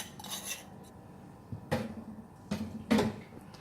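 A spoon stirs coconut into mutton curry in a metal pot, giving soft scraping and a few sharp clinks and knocks against the rim, spaced unevenly, close and alone.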